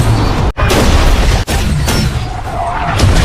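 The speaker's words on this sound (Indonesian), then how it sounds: "sebuah ledakan besar mengguncang fondasi bangunan" A large explosion shakes a building in a dark terminal, a loud, dense, sustained roar of blast and rumble with sharp dropouts between heavy bursts.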